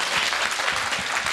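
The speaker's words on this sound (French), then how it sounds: "On applaudit." Studio audience applause on a French-language FM radio talk show, a dense steady patter of many hands clapping that fills the whole short moment, close and fairly loud.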